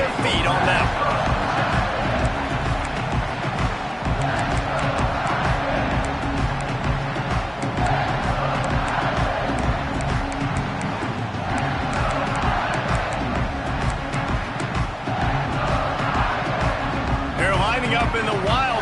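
Stadium crowd in College Football 26 roars steadily throughout after a punt return, a dense, sustained cheer under continuous commentary.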